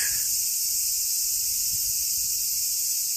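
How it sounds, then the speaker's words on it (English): Cicadas in Tokyo, Japan form a dense, continuous high-pitched buzzing chorus that holds steady and fairly loud throughout, with faint low background rumble and no talking. "Your cicadas concert."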